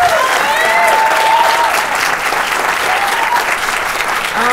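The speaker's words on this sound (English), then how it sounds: "And maybe a round of applause." A live studio audience at a filmed discussion show gives a full, loud round of applause that fills the room, with brief vocal sounds faintly poking through.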